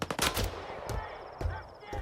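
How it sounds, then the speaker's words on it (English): Enemy gunfire in the video game S.T.A.L.K.E.R. 2: several sharp shots ring out at irregular intervals across a couple of seconds, each a loud, punchy crack over a low rumbling background. "They're about to shoot at me."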